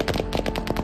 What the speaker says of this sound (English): these protesters fleeing gunshots in the southern city of Kherson